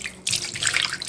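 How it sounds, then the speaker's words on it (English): Water pours from a tap into an empty soy milk carton, a steady close splashing gush that starts abruptly after a brief quiet moment and runs on alone. "I'm just gonna put some water in it so I can get the residual soy out."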